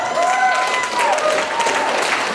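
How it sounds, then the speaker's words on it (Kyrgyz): Wedding guests clap for a beauty contest entrant, a full, even wash of hands from a sizeable crowd, with tonal background sounds running under the applause throughout. "Алгачкылардан болуп сулуулар конкурсуна чыккан биздин Акылай сулуубузга бир кол чаап коюңуздарчы, урматтуу туугандар"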